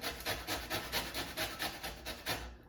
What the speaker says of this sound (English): I'm just gonna use the fine side of the grater and then just zest